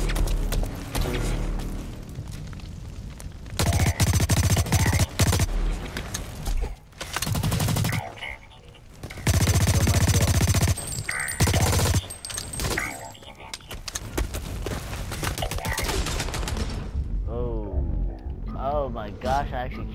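Submachine gun fire in the shooter game Blacklight: Retribution, several loud bursts of rapid shots separated by pauses, mixed with game effects and someone talking over the action.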